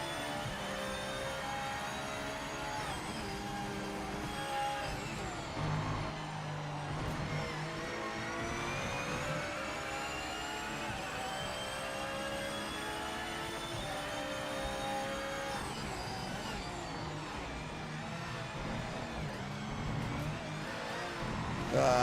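Porsche race car in Project Motor Racing, engine revving hard with rising and falling harmonic whine through repeated upshifts and downshifts, loud and continuous for over twenty seconds.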